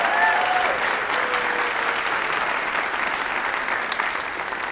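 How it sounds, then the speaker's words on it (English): Steady, dense applause from a large audience at a college fall convocation, sustained and even at moderate distance throughout, with a faint voice or tone briefly audible at the start. "Let's give them a round of applause."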